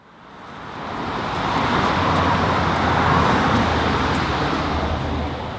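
A 2014 Jaguar XF drives along the Trans-Canada highway inclines between North Vancouver and Lions Bay, giving a steady broadband road and engine rumble that swells in the first seconds and then holds, with no talking.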